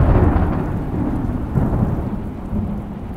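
A thunderstorm in an animated children's story about Prophet Musa gives a steady, loud wash of heavy rain with deep, continuous thunder rumbling underneath, with no voices.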